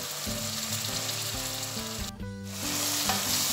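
Steady, loud sizzling as cinnamon sticks and salt fry in a pan for a quail and rice dish. The hiss is continuous and swells slightly near the end.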